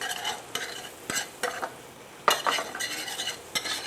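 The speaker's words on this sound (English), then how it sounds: "Pretty much what we're going to do is scramble the eggs to thicken the sauce and the pancetta." Eggs being scrambled with pancetta in a frying pan for spaghetti carbonara: a soft frying hiss broken by sharp, irregular scrapes and clicks of a utensil against the pan, with no talk.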